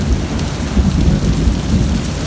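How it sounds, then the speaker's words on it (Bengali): Heavy rain pours down in Gulistan, Dhaka, near the volleyball stadium, with rolling thunder. A loud, steady downpour hisses throughout while deep rumbles swell and fade underneath, with no voices. "এত জোরে বৃষ্টি পড়তেছে"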